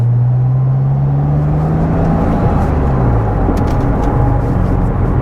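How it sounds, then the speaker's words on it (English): A Porsche Boxster with a 5-speed gearbox and worn timing chain guides runs at a steady, loud drone with a rising whine. The sound is close and constant, with no voices. "there's the timing chain guides"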